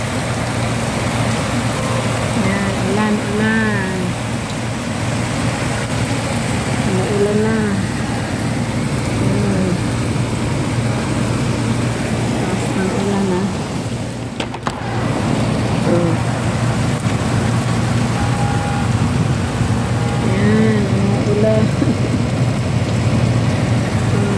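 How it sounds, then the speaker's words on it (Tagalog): Rain falls steadily over a busy roadway, a continuous wash of noise mixed with the rumble of nearby car engines and traffic, with voices talking intermittently over it. "Yan, umulan siya."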